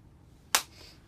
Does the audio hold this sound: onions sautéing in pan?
no